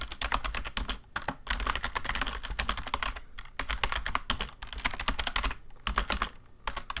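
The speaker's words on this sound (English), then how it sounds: "I don't know why I'm typing this in the chat." Fast, close computer keyboard typing during a livestream chat, dense clattering keystrokes in bursts with brief pauses between them and no talking.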